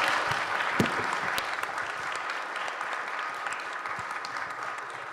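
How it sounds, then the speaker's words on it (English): An audience at a Berkeley talk on Islamic art applauds at the close, a dense, steady wash of many hands clapping that fills the room at an even level for several seconds, with no voices over it. "please join me in giving a round of applause for our audience"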